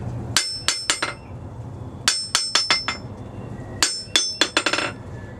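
Sharp metallic strikes from a hard Tractor Supply rounding hammer ring out in quick clusters of two to five blows separated by short pauses, loud and close with a bright ringing tone and slight rebound.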